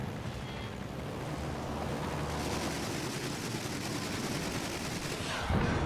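Rocket strike on an enemy aircraft carrier in World of Warships, heard as a steady roar of rapid gunfire-like bursts over rushing water and engine noise, ending in a louder burst near the close.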